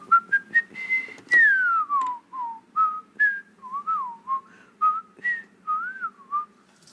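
A person whistles a lively, wavering tune, a string of short rising and falling notes with brief pauses, clear and close with nothing else around it.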